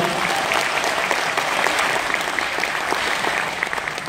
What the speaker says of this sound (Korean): 힘차게 박수 한번 더 부탁드리겠습니다